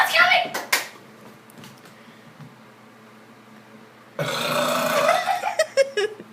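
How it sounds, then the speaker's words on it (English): A loud, long belch from a person rumbles for about a second near the start, followed by a quiet pause and then a burst of noisy talk and laughter from people nearby. "Here comes burp number 3."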